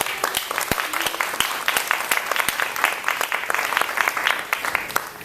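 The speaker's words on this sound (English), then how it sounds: "So let's give our sponsors and volunteers and host committee a round of applause." An audience at a community legacy event gives a round of applause for sponsors, volunteers and the host committee, with dense, steady clapping and sharp individual claps standing out, fairly close.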